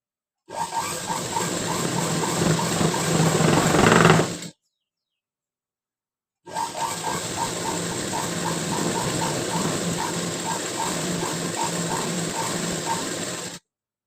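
A sewing machine stitches a patchwork panel for the back of a blouse, running in two steady bursts with a fast, even mechanical whir and tick. A short pause separates the bursts.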